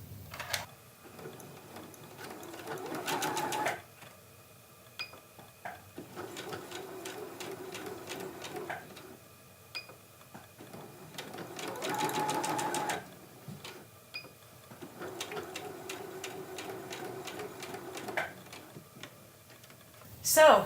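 A domestic sewing machine sews a straight stitch with a standard foot on a fabric bag, running in several steady, fast-ticking bursts separated by quiet pauses, close and moderately loud.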